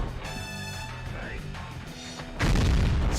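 Gunfire and heavy booms in the Gungrave video game, dense explosive blasts over a sustained game soundtrack, with a louder burst of noise near the end.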